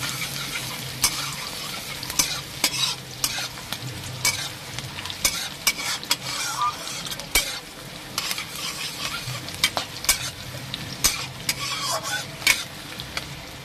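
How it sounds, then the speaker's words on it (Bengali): Onions frying in a pan of oil for a Bengali pangas fish curry, a continuous crackling sizzle punctuated by repeated spatula scrapes and stirs, close and without talk. "দেখুন আমি একটু ভেজে নিচ্ছি।"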